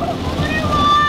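Heavy rain and tire spray on a soaked road from inside a moving car after Hurricane Florence in North Carolina, a steady loud broadband wash with wind rumble and faint talking underneath.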